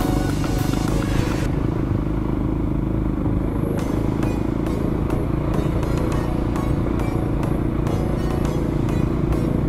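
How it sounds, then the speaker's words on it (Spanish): Trail motorcycle ridden off-road, its engine droning loud and close with constant low rumble and rising revs, while loose clatter and knocks from the terrain punctuate the run. "La moto se está comportando muy bien."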